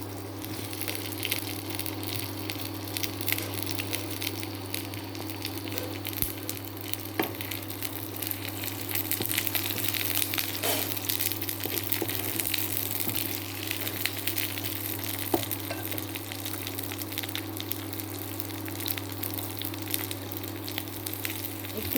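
Sliced ivy gourd sizzles steadily in hot oil tempered with nigella seeds for a Bengali vegetarian curry, a dense, even frying hiss with occasional stirring scrapes and pops, close and continuous.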